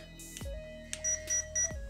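A HobbyWing QuickRun WP-1080 electronic speed controller in an Axial SCX10 III crawler beeps three times to signal a 3S battery, short evenly spaced tones after lower startup tones, clear and close.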